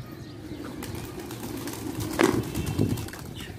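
Pigeons being flown by a fancier in Karachi, with soft cooing and occasional wing flaps over a steady low background murmur; a brief louder flutter stands out near the middle.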